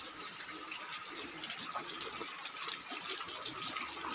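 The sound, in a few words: water flowing from a pipe at a river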